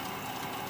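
A wood lathe spins at about 500 RPM while a vase is turned, giving a brief, steady broadband whir with a low motor hum.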